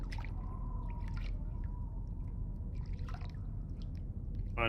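Underwater ambience played as a sound effect during a tabletop horror game session, a low murky rumble with drips, watery squishes and faint tonal whale-like calls throughout.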